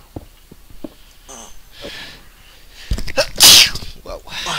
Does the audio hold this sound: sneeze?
yes